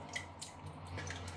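Water drips from a wet badger shaving brush, a few faint, soft splats and squishy drops scattered over a quiet background.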